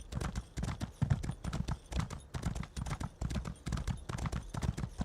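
Horse hooves gallop in Elder Scrolls Online: rapid, rhythmic clip-clop beats repeat steadily in quick bursts, close and clear throughout.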